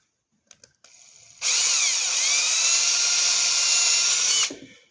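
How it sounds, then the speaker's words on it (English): A power drill bores a hole into a wooden sword handle, starting after a couple of small clicks and whining steadily and loudly for about three seconds before spinning down. "I'm going to drill it"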